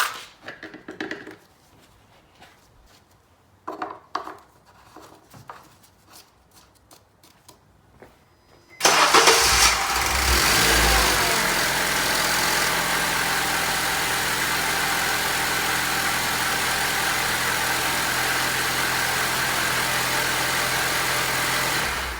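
Some quiet clicks and handling noises, then a Honda Civic (2006–2011) engine cranks and starts abruptly after an oil change, settling into a loud, steady idle that runs on to the end.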